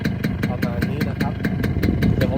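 Old Yamaha RXS 115cc motorcycle idling close by, a fast, steady, even putter of engine pulses, with someone talking over it.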